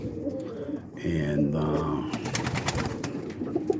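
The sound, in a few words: paired breeding pigeons cooing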